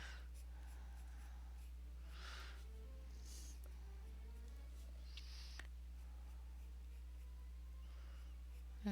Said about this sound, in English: Try not to press too hard with your pencil.